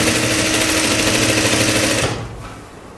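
Sewing machine stitching the waist seam of a jumpsuit, a fast, even mechanical chatter running loud and steady before stopping abruptly, leaving a faint hum.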